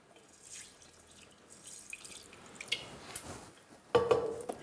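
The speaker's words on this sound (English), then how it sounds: "And now I need to add water because the pasta is going to soak up all those juices" Water pours into a pot of youvetsi with orzo pasta, a soft trickling and dripping that swells into a louder, fuller splash near the end, close by with no talk.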